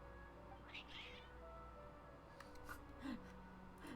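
A cat meows a few times in the Genshin Impact video game, short faint calls over a steady game background hum.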